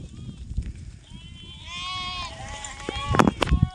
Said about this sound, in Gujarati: આ બાજુથી જો હજી બકરા આયલા આવે છે